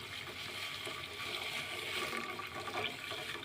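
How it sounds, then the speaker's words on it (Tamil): Rice water is poured into a boiling pot, making a soft, steady gush and bubbling of liquid that runs through the whole short stretch, fairly close and moderately quiet. "இப்போ இதில் நாங்கள் அரிசி தண்ணியும் நான் சேர்த்துக்கிறேன்."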